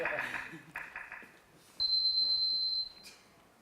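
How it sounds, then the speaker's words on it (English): An alarm tone from a Nokia phone sounds as one sustained electronic beep for about a second, following brief speech and soft handling noises, in an otherwise quiet room. "That's an alarm. That's to wake you up in the morning."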